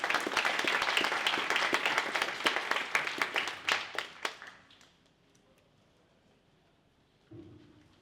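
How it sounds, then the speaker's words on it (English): Audience applause greeting a speaker at a forest-management talk, dense clapping for about four seconds that thins into scattered claps and fades to quiet, followed by a soft bump. "So please welcome Dr. Paul Hessburg up with a big round of applause."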